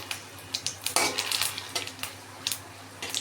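Fennel seeds, cinnamon, dried chillies and bay leaves are stirred in a kadai, a utensil scraping and clinking against the metal in quick irregular strokes, close up with faint background hum.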